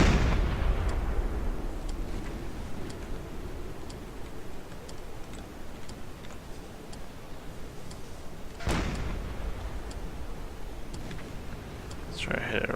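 A ship explosion in the submarine video game Silent Hunter 4: a heavy rumbling blast at the start that decays into a long low roar, with sharp ticking clicks and another sudden hit later on.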